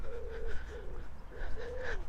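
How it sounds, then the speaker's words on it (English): Outdoor birds calling repeatedly in Inverness, Scotland, soft cooing phrases rising and falling at a moderate distance over a low ambient rumble, no talking. "You hear the birds?"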